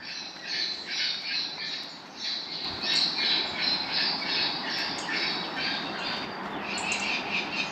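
Parrot-like bird squawks repeating in a dense, continuous chorus, loud and harsh, with no talking.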